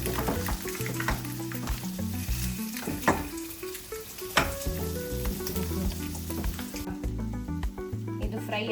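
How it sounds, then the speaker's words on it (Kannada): Egg curry masala fries in oil in a pan, a close, lively sizzle with stirring scrapes running throughout beneath prominent background music. "ಇದೇನು ಮಸಾಲ ಮತ್ತು ಆಯಿಲ್ ಹಾಕ್ಕೊಂಡಿವಿ ಅದ್ರ ಜೊತೆಗೆ ಈ ಥರ ಫ್ರೈ ಮಾಡಿದ್ರೆ ಟೇಸ್ಟ್ ಚೆನ್ನಾಗಿರುತ್ತೆ"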